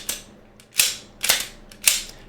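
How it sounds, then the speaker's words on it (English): A suppressed pistol fires with a loud, fast-moving slide action, giving four sharp metallic clacks about half a second apart, each fading quickly into quiet. "you get the slide moving real fast, being real noisy"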